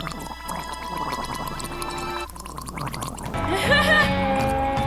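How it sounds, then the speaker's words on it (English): A king lying on the floor after a stroke and heart attack makes wet, throaty gurgling sounds, performed as an audiobook effect, bubbling continuously and growing louder toward the end. "The Chancellor runs to the king, who is laying on the floor, gurgling."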